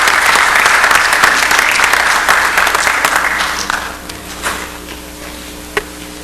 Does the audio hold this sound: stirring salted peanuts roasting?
no